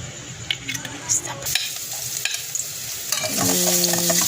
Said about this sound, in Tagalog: magpapainit tayo ng mantika